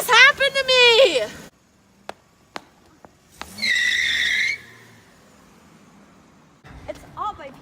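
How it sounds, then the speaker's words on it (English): A staged car skid with tire squeal as a person is hit, a loud screech lasting about a second, preceded by a voice and followed by a few thuds and brief vocal sounds nearby. "Oh, I just got hit by a freaking car."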